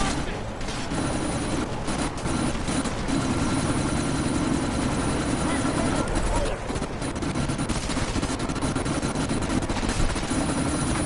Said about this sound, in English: Wait, where's the chopper at?